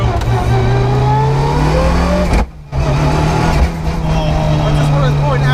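A Mitsubishi Evo 6 rally car with anti-lag and a sequential gearbox roars loudly from inside the cabin, its engine note climbing steadily, cutting briefly at a gear change, then pulling hard again while occupants talk over it.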